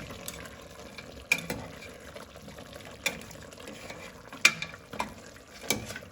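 Spices are stirred into mutton in a pan for ghee roast, a series of irregular scraping and clattering strokes with soft sizzling between them, fairly close and moderately quiet.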